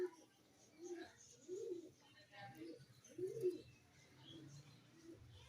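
Pigeons kept by a pigeon fancier coo in soft, low repeated phrases at moderate distance, several rounded coos rising and falling over a light background hiss.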